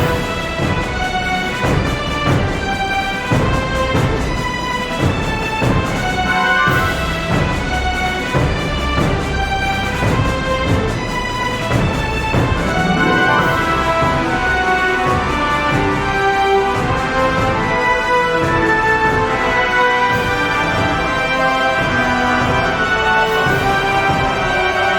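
Breath of the Wild 2017 trailer music plays loud and continuous, a dense layered instrumental passage of sustained tones with steady rhythmic accents and no voices.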